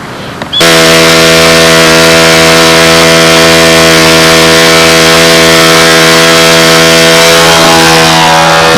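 A model airplane engine with a carburetor on a Windy B-25 starts up after a short quiet moment. It then runs loud and close at a steady, buzzing high pitch, holding that tone almost to the end.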